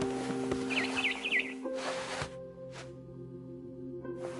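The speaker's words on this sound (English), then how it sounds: "Then I heard chirping outside my window. It was a barn swallow going back to her nest." A barn swallow chirps in What Remains of Edith Finch, a short run of quick high twittering notes over faint ambient hum, followed by soft rustles.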